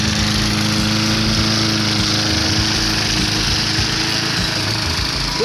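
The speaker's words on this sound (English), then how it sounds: "mowing the lawn." A garbage-picked lawn mower engine runs loud and steady in a constant, buzzy drone that never lets up.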